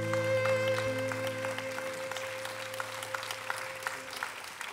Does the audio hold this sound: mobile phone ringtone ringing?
no